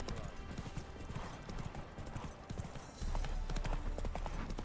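Horse hooves in The Witcher 3 video game, a continuous rhythmic clip-clop of trotting close by, fairly loud with some background game noise and a faint voice.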